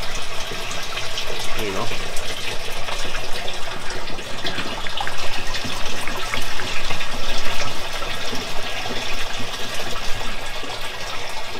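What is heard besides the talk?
raw oil pouring into a bio-diesel processor screen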